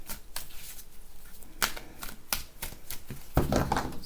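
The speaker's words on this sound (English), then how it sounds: "So I'm going to cut the deck here" A deck of tarot cards being shuffled and cut close by: crisp, irregular riffling flicks and soft slaps, with a fuller burst of card noise at the end and no talking.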